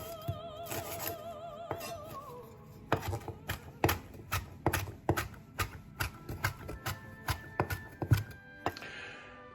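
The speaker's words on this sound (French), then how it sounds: "On va ciseler le persil très finement." Knife finely chopping parsley on a board, a run of quick, evenly spaced sharp knocks close by, with brief murmured talk at the start and a tonal sound near the end.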